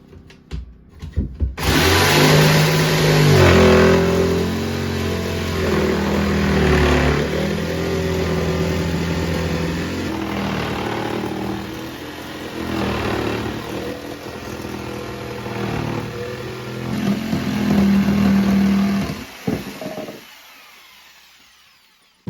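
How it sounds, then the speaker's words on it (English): A jigsaw cuts a hole for a toilet seat through a board for a simple homemade composting toilet, its motor buzzing loud and steady for about twenty seconds with shifting pitch as the blade works, then stopping abruptly. "and then Eric used the jigsaw to cut the hole out."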